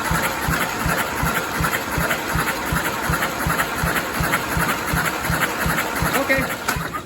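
A Willys flathead engine, overhauled with used parts, cranks over on the starter during a compression test, giving a loud, steady chugging rhythm of evenly spaced pulses close up.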